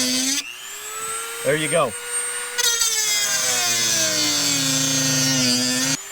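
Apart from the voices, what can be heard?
Dremel rotary tool cutting kayak hull along tape line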